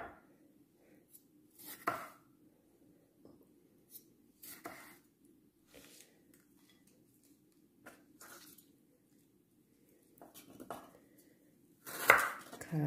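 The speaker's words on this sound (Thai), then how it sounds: "เดี๋ยวยายจะหั่นผักเตรียมไว้เลย" Knife chopping vegetables, including tomatoes, on a board while preparing spicy carp tom yum soup: sparse, irregular chops and cuts, mostly soft with a few louder strikes, and no talking.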